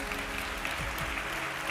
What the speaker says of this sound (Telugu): గట్టిగా చప్పట్లు కొట్టి దేవుని మహిమపరచు